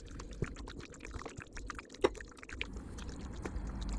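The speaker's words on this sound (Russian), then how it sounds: "добавлять жидкость маринада небольшими порциями" Marinade liquid is added in small portions to sliced beef for a Chinese-style beef with onion dish, a continuous wet trickling and squelching with small splashes and clicks, close and steady, without talk.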